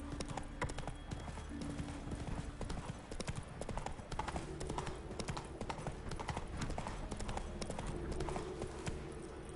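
Roach, the horse in The Witcher 3, trotting with quick, steady clip-clopping hooves throughout, close and continuous, with a faint whinny and occasional voice beneath.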